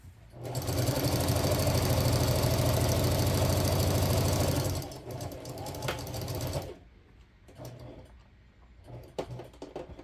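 Sewing machine stitching a quilt channel on a rice bag heating pad, a loud rapid mechanical whirring run of about four seconds, then slower uneven stitching and scattered clicks as it stops.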